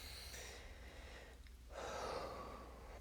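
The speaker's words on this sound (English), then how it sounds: "let's go ahead and take a deep breath" A single deep breath, a soft intake followed by a longer, airy exhale, close and quiet against faint background hiss.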